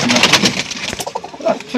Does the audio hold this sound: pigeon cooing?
yes